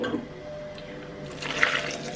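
Water pours steadily into a container, a soft splashing wash that brightens and fills out toward the end.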